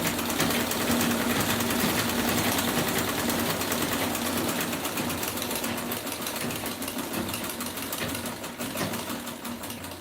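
A sewing machine stitches a dress, running loudly and steadily for the whole stretch with a fast, rattling mechanical rhythm and no speech over it.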